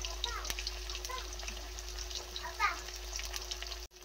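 Tofu pieces frying in hot oil give a steady close crackle and sizzle with a low background hum, running evenly for about four seconds before cutting off abruptly.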